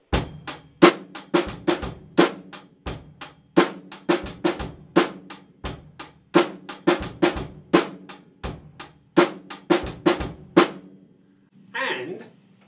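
A snare drum plays a busy, syncopated pattern of sharp hits and accents for about eleven seconds, then stops, followed by a faint brief sound.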